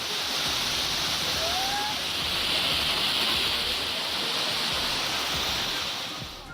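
Water pours from a 40-foot-high waterfall at Meghamalai in Theni, a dense, constant roar of rushing spray that stays loud and close throughout, with a brief faint whistle-like tone partway through.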